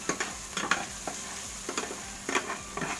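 Garlic fries in oil with a steady close sizzle, and a utensil scrapes and stirs in the pan at irregular moments, several quick strokes standing out over a few seconds.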